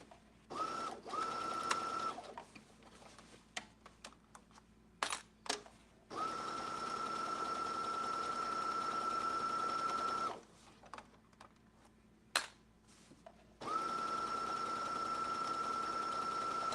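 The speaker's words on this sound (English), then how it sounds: "We've sewed all the way around." Sewing machine stitching a seam around the curve of a handmade bag, running in three long steady bursts of motor whir separated by short pauses, soft handling clicks and brief start-stop runs.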